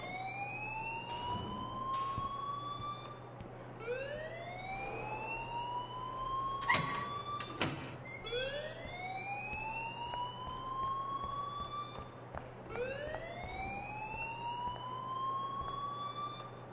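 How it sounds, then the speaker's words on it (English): A school alarm in the video game Life Is Strange wails in repeated rising sweeps, one about every four seconds, over a low steady hum. A few thumps interrupt it midway, and no one speaks. "please turn off that alarm since that's your job"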